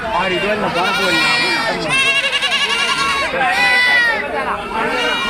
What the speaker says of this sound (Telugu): ఇక మేకలు మేక పిల్లలు కూడా ఉన్నాయి బాగానే ఉన్నాయి